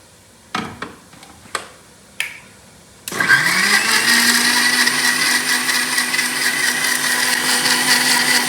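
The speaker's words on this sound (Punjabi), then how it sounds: "ਆਪਾਂ ਨੇ ਟਮਾਟਰ ਵੀ ਟਮਾਟਰਾਂ ਦੀ ਆਪਾਂ ਨੇ ਪਿਊਰੀ ਬਣਾ ਲਈ ਹੈ" Tomatoes being pureed in an electric blender: a few sharp taps and knocks first, then the motor starts with a rising whine and runs loud and steady through the rest, with no speech.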